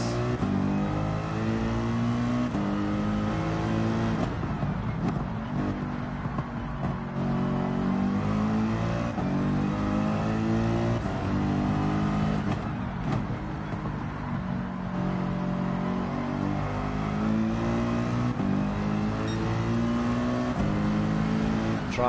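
A race car engine in Gran Turismo 7 revs and drops through the gears, with repeated rising and falling pitch sweeps and blips between shifts. The engine note is steady, loud and close, with no voices over it.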